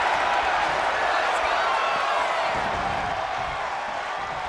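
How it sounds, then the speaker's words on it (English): A WWE wrestling arena crowd cheers and applauds during a fatal four-way elimination match, a steady, broad roar of noise that holds at a constant level throughout. "The WWE Universe is showing their appreciation for the action they're seeing"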